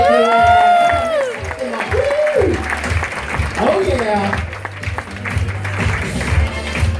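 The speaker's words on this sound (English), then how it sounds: "Give them a round of applause as they go." An audience claps and cheers aboard a cruise ship during a newlywed game show, with the clapping running beneath loud overlapping talk and a brief exclamation.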